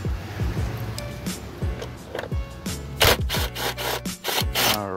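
A ratchet and 13 mm socket on an extension loosening the battery clamp bolt of a 2013 Chevrolet Malibu, giving a series of close, quick clicking and scraping turns, louder clacks near the end.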